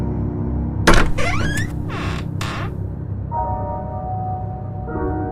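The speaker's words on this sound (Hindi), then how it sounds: "दरवाजा खुद ब खुद बंद हो जाता है" A door closes by itself as a horror story sound effect: one heavy thud, followed by creaking, squealing sweeps and a sustained eerie tonal hum.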